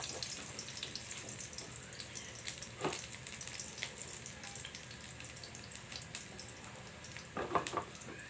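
Garlic sautéing in a pan for a pork and mung bean stew, a soft steady hiss with occasional spatters and a brief louder splash, fairly quiet and without speech.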